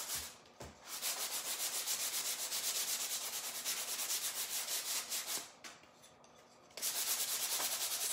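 A bamboo spoon is sanded by hand with coarse sandpaper, giving steady rhythmic rasping strokes close up that pause briefly twice before resuming.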